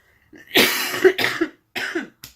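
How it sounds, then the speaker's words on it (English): A harsh, raspy cough in several bursts, a long hacking fit followed by two shorter coughs, close and fairly loud, during a knitting podcast. "sorry for this horrible cough"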